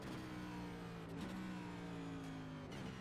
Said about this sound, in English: those are some laps around Pocono inside the race car